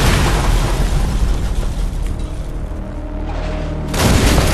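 Incoming German artillery explosions in a WWII battle, a sustained loud rumbling roar of blasts with a heavier boom near the end, dense low thunder throughout.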